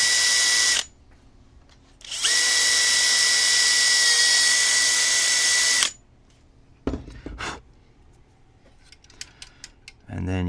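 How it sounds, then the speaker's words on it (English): A small power drill enlarges holes in a part of a GP7 model locomotive, with two long steady whirring runs followed by short stop-start bursts and light clicks. "I will have to make all the holes larger. So I'll drill this out."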